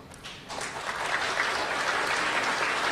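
Applause from an audience at an Indonesian angklung night, a dense, steady roar of clapping that swells in the first second and then holds loud and even.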